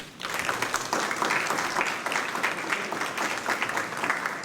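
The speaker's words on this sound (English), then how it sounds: "give Mrs. Mary Clark a round of applause" A school board meeting audience applauds to honor Mrs. Mary Clark: dense, steady clapping from many hands that fills the room at an even level throughout.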